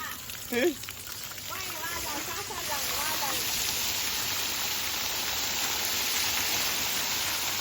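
Water drains out of a homemade backyard swimming pool in a steady, rain-like rushing hiss that settles in after a few seconds and holds at an even level; a voice speaks briefly at the start.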